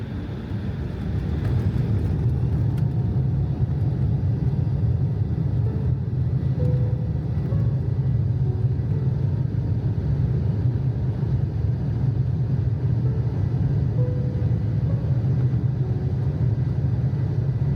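Loud, steady low rumble of a passenger airplane's engines inside the cabin as it starts its takeoff roll from the Newark runway, a continuous broad roar with no talk, holding level for the whole stretch.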